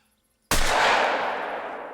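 A single loud, close shotgun blast from the Cacciatore in the Call of the Wild hunting game, fired at a 20-meter target after a silent pause, its sharp crack trailing into a fading boom.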